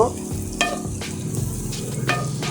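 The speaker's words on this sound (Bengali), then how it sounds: "মশলাটা ভালোভাবে কষিয়ে নিব।" Spice masala for egg biryani frying and being stirred in a pan, a steady sizzle broken by repeated scraping strokes of the spoon, close and fairly loud with no talking.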